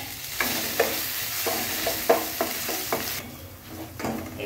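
Spice paste with mustard seeds frying in a hot pan for avarekaalu usli, a steady sizzle broken by sharp scraping stirs of a spoon against the pan, close and alone.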